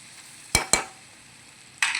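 Andhra-style sambar is stirred in a pot, with a few scraping clanks of a spoon against the vessel, two close together then one more after a pause, over a quiet simmering background.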